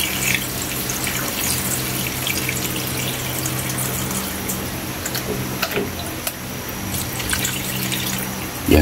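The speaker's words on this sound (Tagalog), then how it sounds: "Yan Kaylee, ilagay na natin ang ating hugas bigas." Steady pour of rice-washing water into a cooking pot for chicken tinola makes a continuous, close, even splashing wash with no pauses.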